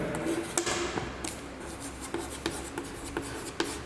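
Pen writing an account heading on paper, soft scratchy strokes with small taps and pauses between words, close and quiet without any talking.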